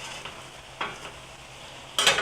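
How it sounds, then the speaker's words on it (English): Ground meat and vegetables for a cottage pie sizzle steadily in a pan, with a few sharp stirring scrapes breaking through the frying hiss; no one speaks. "I have my meat cooking up beautifully along with those vegetables"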